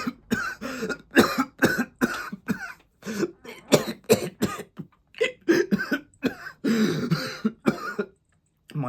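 A man performs a long coughing fit in a dramatic reading, with harsh, throaty bursts in quick, irregular clusters, some wheezy and drawn out, close and fairly loud.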